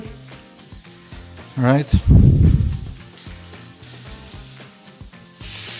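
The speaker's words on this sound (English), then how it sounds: "when I put my steaks, I just grill them" Steaks hit a hot grill and erupt into a loud, close sizzle that quickly settles into a steady crackle, while a person speaks briefly nearby.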